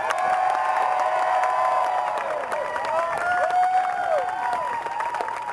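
Rally crowd loudly cheering, whooping and applauding as Daniel Ellsberg is welcomed onstage, with dense sustained clapping and overlapping shouts and whistles from many people close by.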